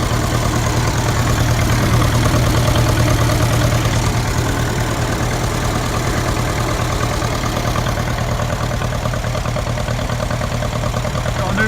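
A 1949 Ferguson TEA20 tractor engine runs steadily with its PTO shaft spinning, a loud, continuous mid-low mechanical drone with a constant hum that stays even throughout, with no talk over it.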